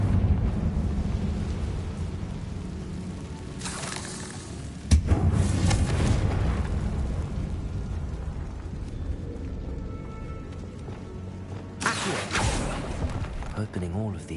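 A Confringo fire spell blasts inside a spider-filled tomb in a Hogwarts video game, a sudden sharp burst followed by a rumbling, crackling roar, with a second loud surge later over a low ambient drone.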